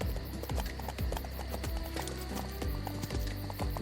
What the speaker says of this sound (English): There's no way he's outrunning 2 full-grown horses.